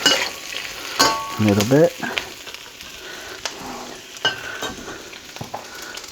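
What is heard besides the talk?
celery cooking in pan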